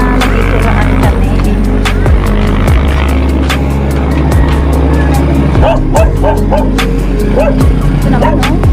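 A dog barks repeatedly at someone walking outdoors near rice fields, the yips coming in a quick series, loud and close, over rumbling background noise.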